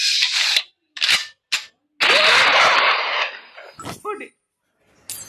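Shotgun blasts in the video game Kick the Buddy: several short, sharp bursts in quick succession, then a longer rough roar and a few scattered clatters, loud and close with no talking.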